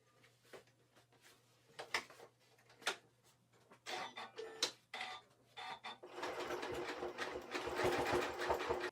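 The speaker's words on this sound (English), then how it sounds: "I can go back now and zigzag this part." A sewing machine runs zigzag stitches across a fabric rug with fabric batting, sounding in quick bursts of rapid needle clatter separated by pauses, then running steadily in a longer, louder stretch near the end.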